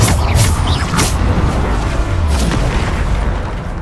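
Bombarda blasting spell from Hogwarts Legacy going off as a series of heavy booming explosions with deep rumble and bursts of crackling debris, loud and close, no talking.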